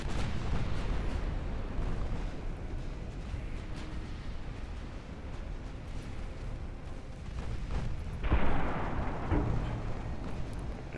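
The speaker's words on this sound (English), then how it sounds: "it is now time to fire our main guns at the battleships" Warship main guns fire at battleships in the Ultimate Admiral Dreadnoughts naval video game, a distant rumbling barrage with one sharper, louder blast late on, no talk.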